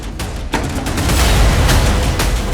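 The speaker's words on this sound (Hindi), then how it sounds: "तोड़ो दरवाजा।" A door is smashed in during a tense Hindi crime-drama raid, with a sudden heavy crash followed by a sustained loud burst of battering and splintering noise.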